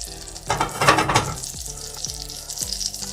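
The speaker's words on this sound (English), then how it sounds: "I'm going to start caramelizing my andouille" Andouille sausage sizzling and caramelizing in a hot pan, a steady loud fry with a burst of crackling spatter and some scraping stirs, close up and with no talking.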